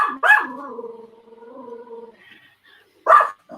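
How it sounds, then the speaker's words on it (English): A dog gives a sharp bark, then a long low whining growl, then another sharp bark a few seconds later. It is close and loud, with nobody talking. "I know exactly which dog it is"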